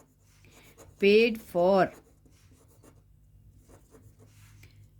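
Faint, steady scratching of a pen writing out a maths solution, running under a short spoken phrase from a teacher.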